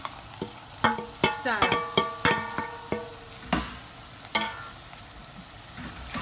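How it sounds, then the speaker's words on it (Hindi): Ginger and garlic hit a pan of translucent onions with a run of sharp clattering spoon strikes and scrapes over a steady frying sizzle, the stirring beats coming in quick bursts before easing off. "अब हम इसके अंदर जिंजर और गार्लिक डाल देंगे"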